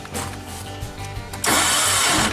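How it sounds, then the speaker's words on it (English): A compact hydraulic utility loader's engine cranks over briefly without catching, as if it has no compression, followed by a loud rush of noise; close and mechanical, with no speech. "Turns over like it's got no compression."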